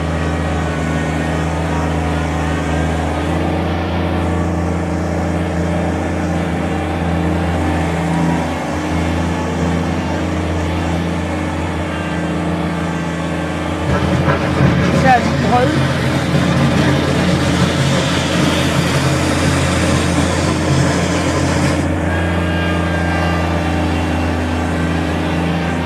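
A 2020 Kubota BX23S compact tractor drives in high range, its engine humming steadily with a low drone, then rising louder and rougher partway through before settling back to a steady run.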